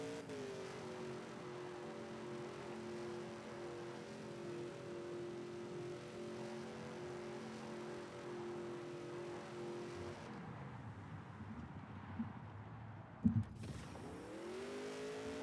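A race car in the Wilder World racing game holds steady engine drone at full power with NOS on a long straight, then the pitch drops and climbs again as it shifts with a brief clunk.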